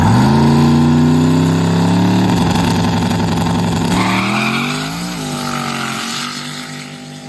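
A car makes a loud, close test pass on a somewhat wet road, its engine roaring hard with rising pitch, then easing as it pulls away.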